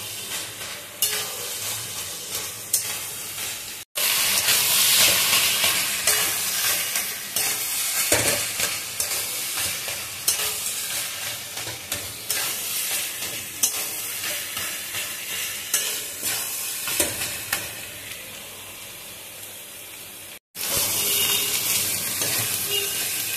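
Cabbage and potato ghonto, cooked with fish oil and ground radhuni, cumin and coriander-leaf paste, stirred and fried in a pan with a spatula: steady, close scraping over continuous frying, with two brief breaks, no talking.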